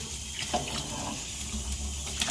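Cooked vegetable water poured into Kadale Kalu sambar, a continuous splashing trickle of liquid, close and moderately quiet over a short stretch.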